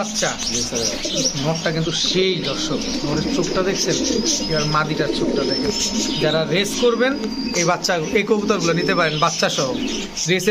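Pigeons coo amid a busy, crowded din, with chirps and people talking loudly over the birds throughout.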